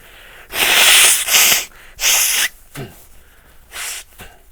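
Muffled, breathy bursts that build into a stifled sneeze during a photography software webinar, several loud hissing exhalations in a row, close to the microphone.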